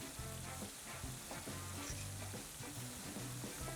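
Battered squid, a bigeye inshore species, frying in hot oil, giving a steady dense sizzle with a low rhythmic hum underneath, continuous and close throughout.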